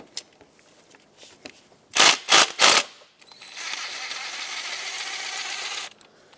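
A socket wrench with a swivel working 10mm bolts free on a Mazda 6 engine, three loud ratcheting bursts in a row followed by a longer, softer rattling run, heard close up with no talk.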